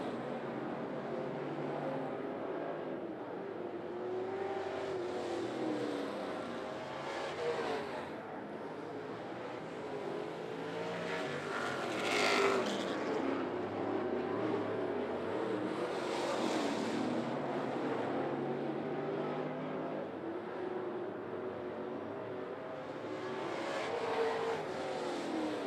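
Late-race cars circle 411 Motor Speedway, a short track. Their engines rise and fall as packs pass, with peaks of roar between steadier rumbling, heard from a distance and fairly faint overall.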